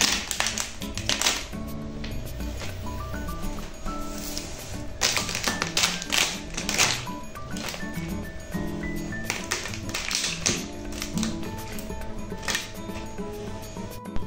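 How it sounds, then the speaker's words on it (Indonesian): Frozen chocolate shell cracking on a magic cracking drink, with repeated crisp taps and crackles in irregular bursts throughout, close and fairly loud with no talking. "Coba dengerin lagi retakan coklatnya."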